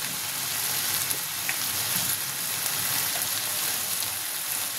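Steady, dense sizzling from a pan of banana flower and hilsa fish head curry with ghee sprinkled over it, a continuous close hiss with faint crackles and no talking.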